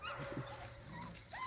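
Dogs barking and whimpering at a raccoon up a tree, a few short yips and barks close by in quick succession.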